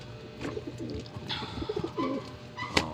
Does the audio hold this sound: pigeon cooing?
yes